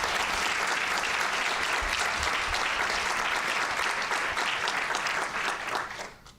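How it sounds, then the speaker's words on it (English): A room full of people at a board of trustees meeting applauds the speaker's family with sustained, dense clapping that holds steady before fading out at the end. "Would you please give them a round of applause?"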